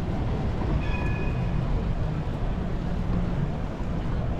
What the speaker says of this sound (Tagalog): Yan train nila, oh.